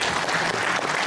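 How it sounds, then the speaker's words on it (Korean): A burst of crowd applause at an alumni association general meeting, dense and steady clapping from many hands throughout. "박수로 부탁드립니다."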